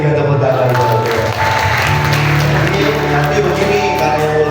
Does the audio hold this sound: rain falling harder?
no